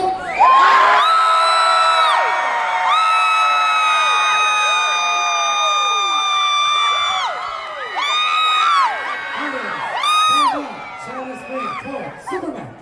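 A cruise ship audience at a Halloween party cheers, whoops and yells for a young Michael Jackson costume winner, loud and sustained with excited shouts rising and falling throughout.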